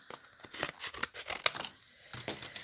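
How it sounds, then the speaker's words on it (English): Scissors snip and cut open packaging for a mixed media photo frame craft: a run of sharp, close, uneven cuts and rustles, with one especially crisp snap partway through and short pauses between. "I cannot get into the packaging. Let's use some scissors."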